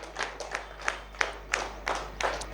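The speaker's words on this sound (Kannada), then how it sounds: "ಎಲ್ಲರೂ ಕೂಡ ಗಟ್ಟಿ ಚಪ್ಪಾಳೆಯನ್ನು ನೀಡುವುದರೊಂದಿಗೆ" Clapping from an audience at the opening ceremony of the Hindu Premier League underarm cricket tournament, season 8, in Venur: a string of sharp, fairly close claps at an uneven rhythm, about seven distinct bursts over a quiet background.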